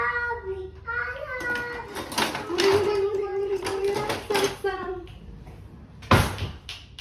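A kitchen cupboard or drawer is opened and closed in a home kitchen during the making of crema catalana. Soft knocks are followed by one sharp bang near the end, all under ongoing conversation that includes a voice.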